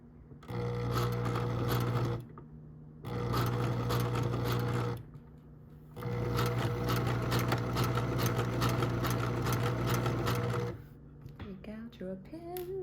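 A sewing machine stitching ribbon for a memory ornament runs in three steady whirring bursts of rapid, even needle rhythm, separated by short pauses, with a little talk at the end after the motor stops.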